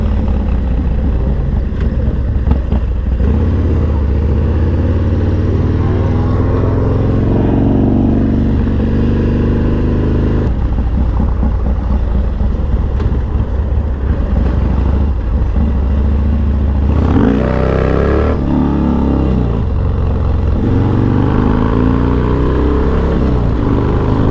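A Harley-Davidson Dyna FXDX motorcycle out on a ride gives a steady, loud engine drone with wind rush. Its pitch rises and falls through shifts, and there is no talking.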